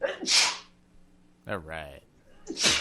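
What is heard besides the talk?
sneeze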